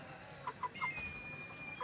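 Aseel hens in a cage setup give a few faint, short clucks in quick succession, with a thin high whistle-like tone running under them.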